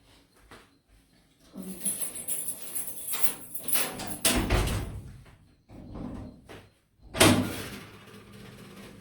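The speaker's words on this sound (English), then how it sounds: "I'm trying to open the door for my assistant." An indoor door being opened, with a series of close clunks, rattles and a louder bang at the end, amid some background voices.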